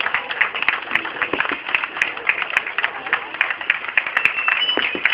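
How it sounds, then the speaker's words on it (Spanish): Steady applause from a crowd, dense and continuous with scattered sharper claps, sustained at an even level throughout. "Un fuerte aplauso para estos excelentes bailarines, por favor."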